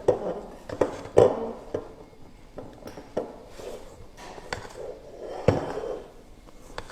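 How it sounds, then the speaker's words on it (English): A spatula mixes flour into tiramisu batter in a bowl, giving soft scraping strokes and scattered light knocks against the bowl at an uneven pace, fairly close and moderately quiet. "Make sure the flour is mixed very well. So I'm using here the spatula, not the whisk"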